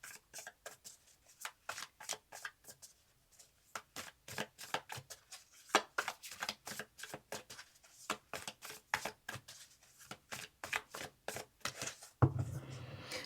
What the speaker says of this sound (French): Je mélange les cartes avec vous